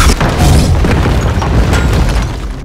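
A booming energy blast from a Doctor Strange fight scene, a loud, dense, sustained explosion roar with crackling debris, filling the whole moment before trailing off slightly at the end.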